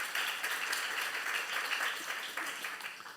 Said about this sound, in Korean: 믿는 사람만 박수며 하나님께 영광 돌리시기